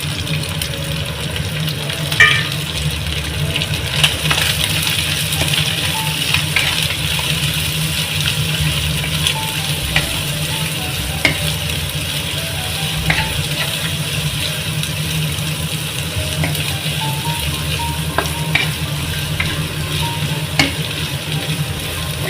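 Grated carrot, cabbage and other vegetables for chicken fried rice sauté in a pan with a steady, even sizzle, with occasional faint clicks and scrapes of stirring.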